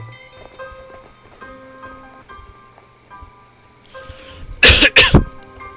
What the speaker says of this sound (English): I'm sorry about the cough, guys.